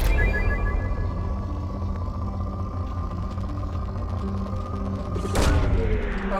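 A probe launch in the video game Mass Effect 2, heard as a loud burst with a whoosh near the end, over a steady droning engine-like hum that runs throughout.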